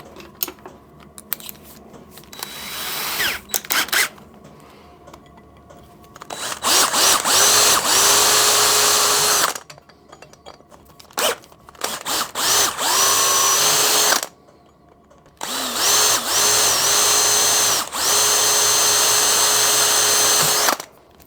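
A power drill whines in several long bursts separated by pauses, loud and close, with the motor pitch dipping slightly as it bites into material, drilling 3.5 mm holes freehand while installing a DRO on a lathe tailstock.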